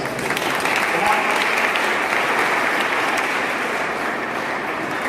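Sustained, even applause from an audience at a program event in Lucknow, loud and continuous from start to finish with no talk over it.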